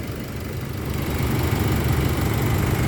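A car engine idles with a steady low rumble and a faint vibrating hum, close by and unchanging throughout.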